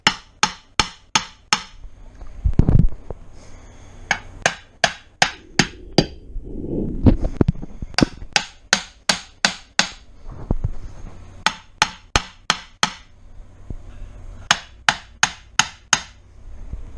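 A hammer taps the crankcase halves of a 1996 Suzuki RM250 two-stroke motorcycle together. Loud, sharp metallic blows come close up in quick rhythmic bursts of four to six, with a scraping shuffle between groups.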